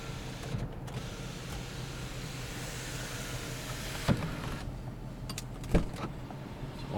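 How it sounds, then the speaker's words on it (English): A power moonroof on a 2006 Chrysler 300C Heritage Limited runs with a low steady electric motor whine inside the car, ending in a couple of soft clicks and thumps as it stops. "power moonroof."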